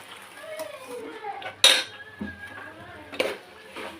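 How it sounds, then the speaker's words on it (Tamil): Rice mixture for tomato rice stirred in a pot, with scrapes and a sharp utensil clink against the metal rim, the strokes intermittent beneath someone talking. "இந்த மாதிரி போட்டு நல்லா இதை கிண்டி விடுங்க"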